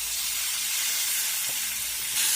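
Vegetables frying in a pan with green chili and chopped tomato, a steady close hiss and sizzle running throughout with no talk.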